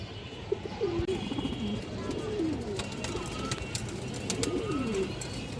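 Pigeons at a pigeon farm coo nearby in repeated soft, throaty rolling calls over a murmur of background noise. Faint voices can be heard among the birds.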